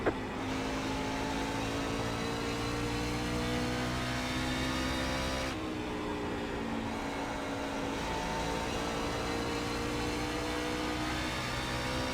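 NASCAR truck engine held at full throttle in iRacing, a steady, loud, buzzing drone with strong harmonics and a brief dip in pitch partway through, then a sustained high rev with no talking.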